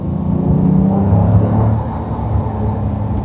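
Supercar engine in sport mode from inside the cabin, a loud continuous low rumble and drone that swells briefly with revs, then settles to a steady throb.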